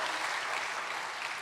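Church congregation applauds during a sermon, a steady, dense wash of clapping at moderate volume without any voices over it.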